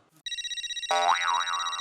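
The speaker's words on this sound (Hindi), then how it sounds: "अब ये किसका फोन आ रहा है?" A telephone rings in a comedy sitcom scene. A steady electronic ringtone starts alone, then a louder warbling melodic ring takes over and keeps sounding clearly, with no voices over it.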